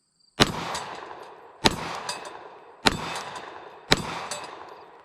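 A customized budget Glock 19 pistol fires four loud, sharp shots spaced roughly a second apart, each crack followed by a short ringing tail that fades before the next one.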